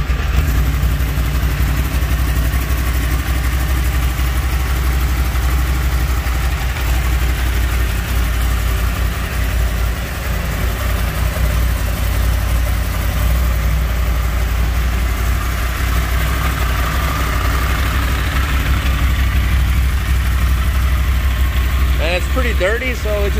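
A 2012 Yamaha R1 motorcycle idles steadily after a cold start, a loud, even engine drone held for the whole stretch with no talk over it.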